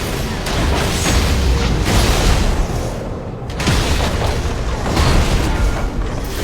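In League of Legends, a turret is attacked amid a dense, continuous rumble of game combat effects and explosions. The sound stays loud and steady, with a brief dip midway.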